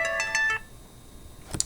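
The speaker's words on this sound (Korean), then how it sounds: "전화가 와서요." Brief electronic ringtone from an incoming telephone call, a few quick tonal pulses at the start, then quiet, then a short final chirp, heard close and with no talking.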